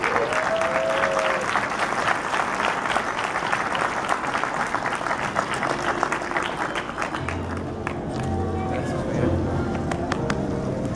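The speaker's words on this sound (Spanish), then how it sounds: "Fuerte el aplauso" Applause from an audience at a graduation ceremony in a convention centre, a steady roar of clapping that runs the whole time while a voice speaks over it through the hall's sound system.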